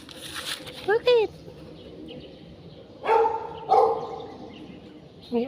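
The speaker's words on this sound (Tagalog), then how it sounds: "May aso dun." A dog barks a few times at a distance outdoors, short sharp yelps spaced across several seconds, while people talk nearby.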